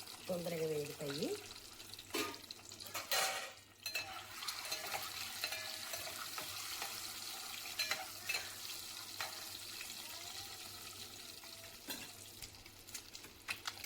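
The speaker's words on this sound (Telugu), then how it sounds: "చూడండి, బాయిల్డ్ ఎగ్స్ గోల్డెన్ కలర్ వచ్చే వరకు ఇలాగే వేయించుకొని పక్కకు తీసుకుందామండి." Boiled eggs frying in a pan with turmeric, making a steady low sizzle with scraping and stirring from a spatula, and a brief louder clatter near the start.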